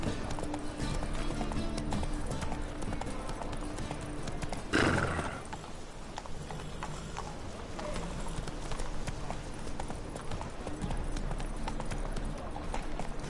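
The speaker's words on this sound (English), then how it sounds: "Whoa there, Roach" Horse hooves clip-clopping in the Witcher 3 video game, a steady close trot of rhythmic hoofbeats with a brief whinny partway through, over a low ambient bed.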